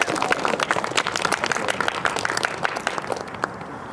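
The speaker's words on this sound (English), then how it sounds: "please give a warm round of applause for the cast of Romeo and Juliet." Audience applause for the cast of a high school Romeo and Juliet production, fairly quiet and distant, with individual claps standing out in a loose, steady patter that lasts about four seconds.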